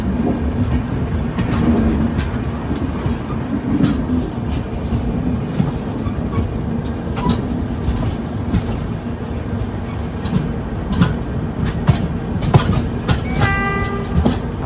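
The Kerala Sampark Kranti Express rolling steadily on the rails, a continuous loud rumble with rhythmic clatter, and a brief horn-like tone near the end.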